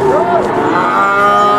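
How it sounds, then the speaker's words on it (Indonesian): A single cow gives a loud, close, drawn-out moo lasting over a second at a busy cattle market in Pati, with a rising and falling tone. "Sapi dagangan Mas Jalal"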